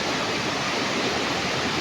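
A creek flows steadily with a dense, even rushing wash of water that stays constant and fairly close throughout.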